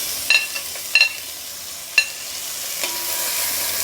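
Grated coconut fries with ginger garlic paste in a pan for a Kerala-style duck roast, a soft steady sizzle under a few sharp scrapes and clinks of the stirring spoon against the pan.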